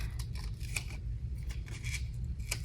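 Scissors cut a paper mask close up, a quick series of crisp snips and slicing rasps about every fraction of a second over a low steady background hum, with no talking.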